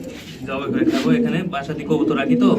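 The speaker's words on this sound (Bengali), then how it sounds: "চমৎকার বাগদাদি কবুতর" Baghdadi pigeons coo in low, throaty bursts at a pigeon farm, with people talking over them close by.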